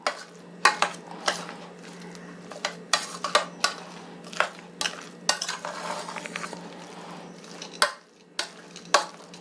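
A utensil stirs ground masala into tapioca in a cooker, making repeated sharp scraping knocks against the metal in an uneven rhythm over a faint low hum.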